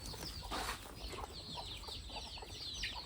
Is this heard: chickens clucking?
yes